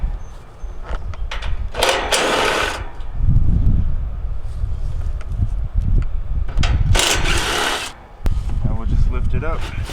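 Hands working on the fan motor top of an American Standard central AC condenser unit under repair for not cooling, with rubbing, scraping and clattering of metal parts and tools in bursts, close up, alongside a few brief louder scrapes.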